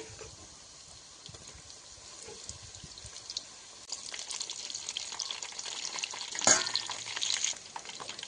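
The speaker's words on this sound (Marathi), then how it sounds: "आपण थोडी थोडी सोयाबीन तळून घेऊया." Soybean chunks deep-frying in hot oil, a steady broadband sizzle that builds louder midway with a brief bubbling burst as more pieces drop in, then settles.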